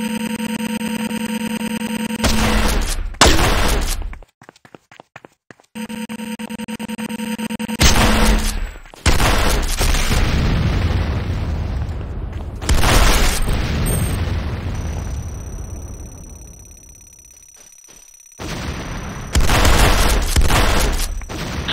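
Gunfire and explosions pound a weapons factory in the video game Renegade, with heavy booms, crackling blasts and sustained rumbling bursts broken by abrupt cuts and short quiet gaps, loud and close throughout.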